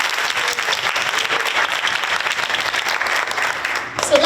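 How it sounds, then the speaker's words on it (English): Audience applause at an elementary school renaming dedication ceremony, steady dense clapping throughout, fairly close and loud, with a brief shift near the end. "Can we give them another round of applause?"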